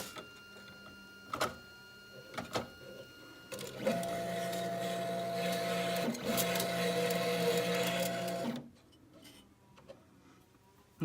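A 3D printer's extruder loads filament, first giving scattered clicks and ticks, then a sustained whirring stepper-motor drone with tonal whine for several seconds before stopping abruptly into quiet, with no talking.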